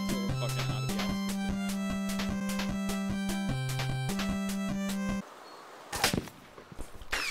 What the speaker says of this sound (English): Oh, gunshot.